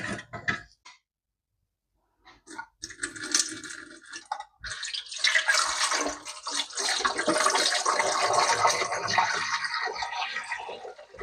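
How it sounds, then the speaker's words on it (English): Water poured into a pressure canner: a couple of brief splashes, a short pause, then a sustained, close, splashing pour that continues to the end. "Add the water to your recommended guidelines on your pressure canner."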